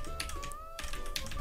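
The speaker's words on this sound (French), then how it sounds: "le clavier, il est pas du tout mal pour un premier clavier mécanique que j'ai" Typing on a Keyz Rubidium mechanical keyboard, a dense run of quick, fairly loud key clacks in two bursts separated by a short pause, with a steady tone in the background.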